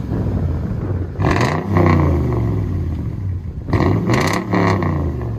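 A Toyota Tundra 5.7L V8 with a Flowmaster Outlaw true dual exhaust revs loudly nearby, two sharp throttle blips rising and falling over a deep rumbling idle.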